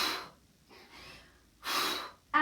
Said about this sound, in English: hard breath out